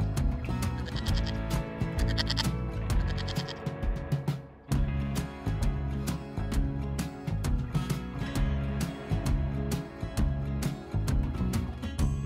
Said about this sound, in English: suddenly you hear an unusual noise, a bleating. There's a huge herd of goats near the road.